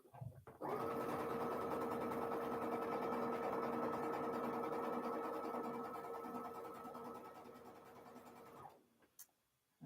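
Sewing machine chain-piecing half rectangle triangles hums in one long, loud, steady run of about eight seconds before winding down, with no talking.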